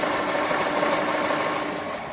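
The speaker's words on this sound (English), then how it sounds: "Sounds like injectors tick, tick, tick, tick, tick." A car engine fitted with a new turbo and catless up-pipe idles with a rapid, even ticking from the injectors over a steady mechanical hum, close and continuous.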